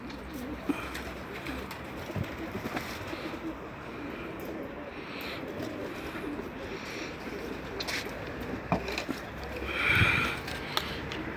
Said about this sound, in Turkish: Kuşlar yanına geliyor.